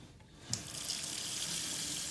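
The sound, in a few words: water running from a tap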